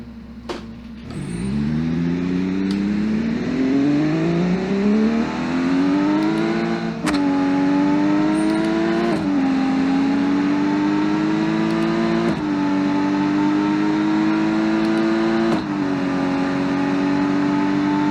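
A rear-wheel-drive car in a BeamNG video game drag race launches and accelerates hard down a quarter-mile strip, its engine note climbing through several gears with a brief dip at each shift, loud and continuous throughout.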